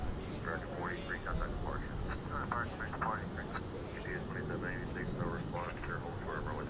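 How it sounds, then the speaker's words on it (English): A Finnair Airbus A350 jet approaches DFW airport, its low, broad engine roar rumbling steadily while people talk over it. "here comes our A350 from Finnair, the One World livery"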